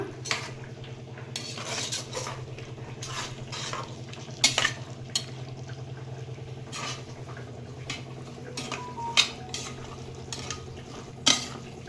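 Peas being stirred in a pressure cooker pot for pulao, with repeated soft scraping and clinking of a spoon against the metal pot and a low steady background hum.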